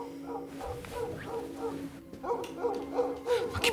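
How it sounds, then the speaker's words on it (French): Dogs barking and whimpering in a short run of yelps and howl-like calls, fairly close and repeated in bursts, with some background voice. "Les chiens."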